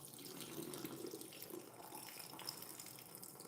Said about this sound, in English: let the water just rinse it off a little bit.